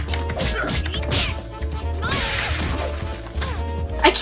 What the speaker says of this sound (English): I keep punching her too far away.